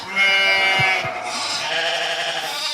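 Goats bleat in a wavering, drawn-out chorus with a few low knocks beneath, loud and close, with no talking.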